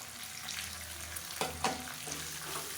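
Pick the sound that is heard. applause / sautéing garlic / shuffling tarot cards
sautéing garlic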